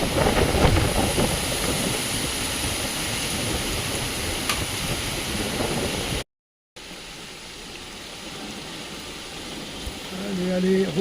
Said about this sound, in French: Et le vent se lève de plus en plus.